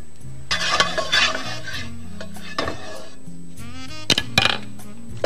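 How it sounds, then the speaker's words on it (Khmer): Garlic fries in oil in a hot wok while a metal utensil stirs and scrapes against it, making loud close bursts of scraping and clattering over a continuous sizzle. "យើងលីងខ្ទឹមនេះចាឲ្យវាឡើងក្លិនឈ្ងុយសិន"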